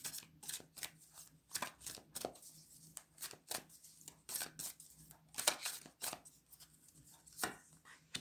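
Tarot cards are shuffled in quick, crisp bursts of riffling and slapping, repeated many times close by, with no talking.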